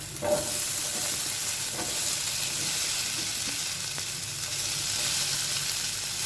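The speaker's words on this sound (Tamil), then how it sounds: "எல்லாத்தையும் சேர்த்துட்டு நல்லா எண்ணெயிலே ஃப்ரை பண்ணி விடுங்க கொஞ்சம் நேரம்" Steady, dense sizzling of potatoes frying in hot oil, loud and continuous throughout with occasional soft stirring clinks, no voices.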